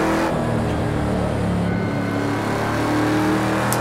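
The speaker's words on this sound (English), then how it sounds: "We're just going to clutch kick." A 900hp RTR Formula Drift Mustang in Project Cars 2 roars loudly and continuously as the driver clutch kicks, the engine note holding high and strained throughout.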